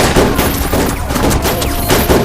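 Dense, loud gunfire in the South Indian action film Salaar, sustained volleys of overlapping shots filling the short stretch without pause.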